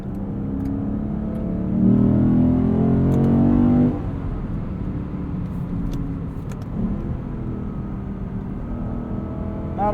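Inside a 2022 Lexus IS 500 on the move, the engine hums steadily. It then rises to a louder, climbing surge as the car accelerates before easing back to a steady cruising drone.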